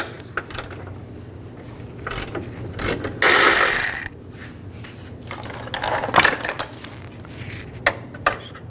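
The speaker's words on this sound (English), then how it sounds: "Now I'm going to use a 14mm socket and take the nuts off the top of the strut mount." A ratchet fitted with a 14mm socket backs off the strut mount nuts on a 2007-11 Honda CR-V, producing several bursts of crisp pawl clicking close by, separated by pauses and faint clinks, with no voices.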